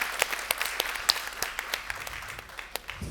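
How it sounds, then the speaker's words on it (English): Audience applause fills a Dutch IOTA meetup as a meeting wraps up, steady scattered clapping from a moderate-sized group heard at middle distance, with no voices over it. "you can give a round of applause to Dom before we end this meeting."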